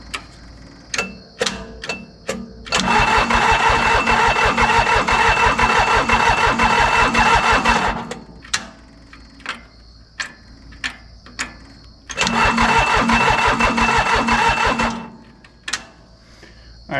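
An old commercial diesel mower engine, left sitting in a field for 20 years, cranks in two long rhythmic bursts of labored churning that never catch, separated by sharp clicks and clunks.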